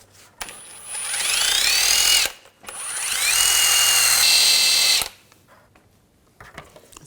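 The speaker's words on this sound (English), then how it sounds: "we're just going to clean this up with a wire brush" A wire brush scrubs rust off an inner tie rod on a 2011-2018 Volkswagen Jetta, heard as two loud, high whirring bursts of about two seconds each, with a short pause between them, then quiet.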